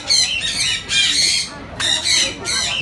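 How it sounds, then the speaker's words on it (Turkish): Parrots in a multi-tier aviary at a pet shop squawk loudly and harshly in repeated bursts close by, with brief pauses between the calls. "Size bakın şöyle papağanların olduğu yere götüreyim arkadaşlar"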